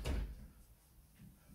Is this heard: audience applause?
no